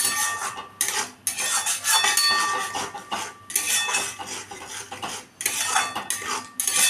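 Spices being stir-fried in a pan for a Bengali soya bean and potato curry, heard as close, repeated scraping and clattering of a utensil against the pan in uneven bursts with short pauses, no voices.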